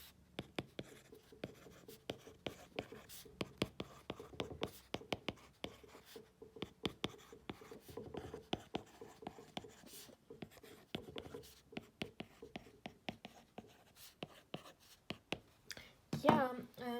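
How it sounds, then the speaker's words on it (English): An Apple Pencil tip scratches and taps against a 7th-generation iPad screen in quick irregular strokes, close and fairly quiet, with a few sharper clicks near the end. "If I want to write with it with the Apple Pencil"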